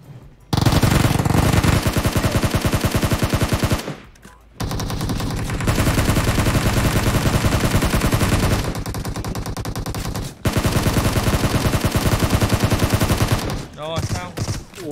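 Automatic gunfire from PUBG Mobile rattles in long, loud, rapid bursts separated by brief pauses, dense and close, with voices faintly mixed in near the end.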